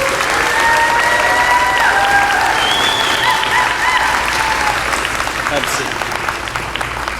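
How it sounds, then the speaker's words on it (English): An audience at an 8th grade promotion ceremony applauding, steady sustained clapping from a crowd throughout, with a voice speaking briefly over it. "If you would, please give them a round of applause."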